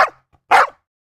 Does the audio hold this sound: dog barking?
yes